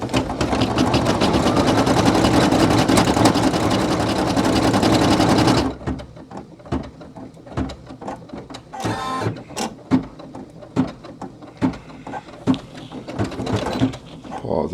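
Brother PE800 embroidery machine stitching a patch in white thread, a dense, steady mechanical whir with rapid needle clatter for about six seconds, then stopping and giving way to faint handling clicks and thumps.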